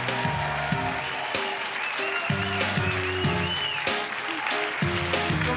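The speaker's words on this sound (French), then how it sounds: "Vous faites bien de l'applaudir." A French game-show studio audience applauds a contestant steadily and close up, with tonal music cues and a host's voice running underneath.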